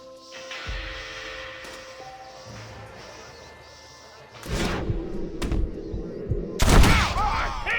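Gunfire rings out in a video game, with sharp shots and heavy impacts in the second half over a quieter opening of game ambience.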